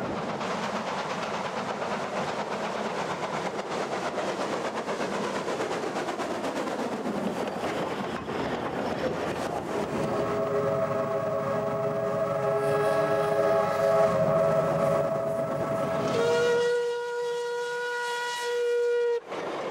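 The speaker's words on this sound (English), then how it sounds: "PB 15732 and diesel electric loco 1615 are heading off towards the Brisbane Valley branch." A PB15 steam locomotive and a diesel-electric locomotive pull away on a Queensland line, with a steady rumble and rail noise that build into a long, loud multi-tone whistle blast near the end.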